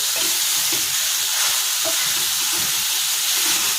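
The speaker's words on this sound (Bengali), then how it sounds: "এগুলো একটু ভাজে ভেজে একটু নরম হবে।" Liver stir-frying in a hot pan in a Chinese-style dish, giving a steady broadband sizzle with soft intermittent stirring scrapes throughout, close and fairly loud, with no voices.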